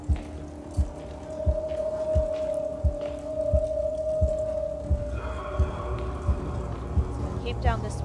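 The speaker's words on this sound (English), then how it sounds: "The heartbeat has definitely gotten louder now." Heartbeat in the video game Medusa's Labyrinth thumps low and steady at about one beat per second, sounding under a sustained hum, with a voice talking over it.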